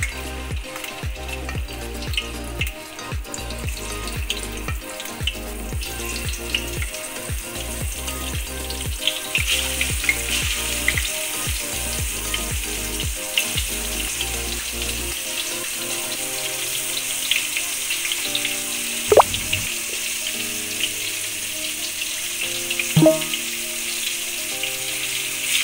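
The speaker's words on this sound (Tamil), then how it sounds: "எண்ணெய் சூடாயிருச்சு, இப்போ கத்திரிக்காய் போடுறேன்." Eggplant pieces for katrikai poriyal fry in hot oil with a steady, bright sizzle, broken early on by stirring thumps and later by a few sharp clinks, close up and without talk.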